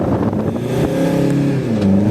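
A Mitsubishi Strada GLS turbo diesel pickup's engine revs with a deep, rumbling exhaust note, rising and falling briefly, heard up close.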